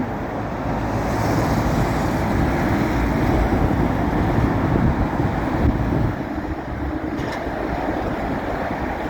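Continuous roar of winter highway traffic mixed with cold, gusting wind, loud and steady, easing slightly toward the end; nobody speaks.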